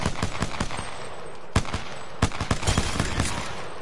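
Rapid gunfire in a shooter video game, loud bursts of automatic shots with sharp cracks scattered through the stretch, close and continuous, with no voices over it.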